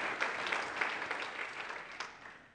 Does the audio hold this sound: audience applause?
yes